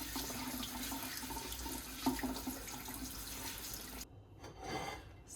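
A potato, likely a Dutch variety, being washed under a running kitchen tap, steady faint splashing water with light rubbing, then the flow cuts off near the end before a brief final trickle.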